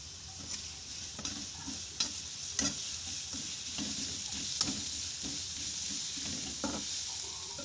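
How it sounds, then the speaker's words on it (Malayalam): Sliced onions being sautéed in a pan for a Malabar-style Kerala chicken curry, a soft steady sizzle broken by repeated scrapes and taps of a stirring spoon, fairly quiet and close. "സവാള ചെറുതായൊന്ന് വഴറ്റിയെടുക്കാം."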